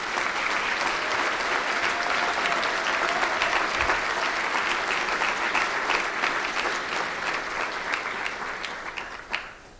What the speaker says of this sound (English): I think they deserve a terrific round of applause.